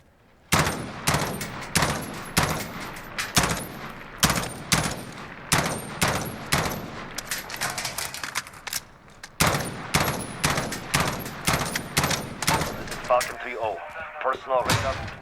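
M16A4 rifle fire in Call of Duty: Modern Warfare: sharp, loud burst-fire volleys repeat steadily in quick clusters of three, each crack followed by a brief echoing tail.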